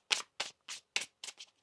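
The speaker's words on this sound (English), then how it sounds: "One more shuffle here." Tarot cards being shuffled by hand, six crisp riffling bursts in quick succession, close and fairly quiet, with no talk.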